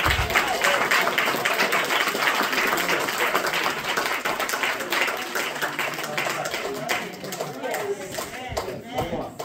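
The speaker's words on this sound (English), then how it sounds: "Another round of applause." Church congregation applauding at a Baptist church anniversary service, a dense, steady wash of clapping with voices mixed in throughout, fairly loud and sustained for the whole stretch.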